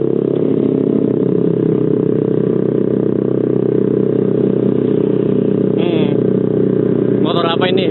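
A Yamaha Mio scooter with a starter fault runs noisily, its loud, steady engine drone carrying through the whole stretch, with brief sharper whines near the end.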